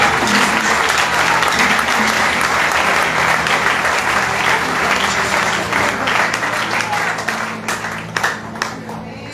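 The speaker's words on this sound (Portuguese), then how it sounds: "Você pode aplaudir ao Senhor" A church congregation breaks into loud, sustained applause, a dense mass of clapping over a low hum, tapering off near the end into scattered individual claps.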